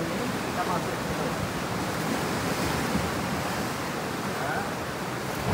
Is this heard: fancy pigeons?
no